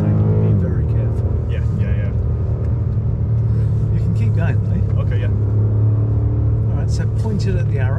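A heavy 2.5-ton four-wheel-drive BMW M car drives on Goodwood Motor Circuit, its engine droning loud and steady from inside the cabin, with voices talking over it.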